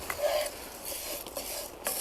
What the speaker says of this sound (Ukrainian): Трішки помішаємо наше м'ясо.